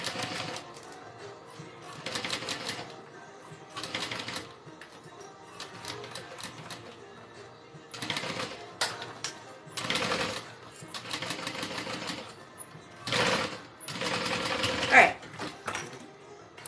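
A sewing machine stitches a Denver Backpack in repeated bursts of fast mechanical whirring separated by quieter pauses, with a voice talking over parts of it.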